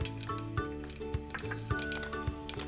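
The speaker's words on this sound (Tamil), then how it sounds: "லோ பண்ணிவிட்டு இதில் சீரகம் கடுகும் ஃபஸ்ட்டு நம்ம சேர்த்துக்குவோம்." Cumin and mustard seeds sizzling in hot sesame oil over low flame, a steady close frying hiss with small popping crackles and a faint clatter of cookware.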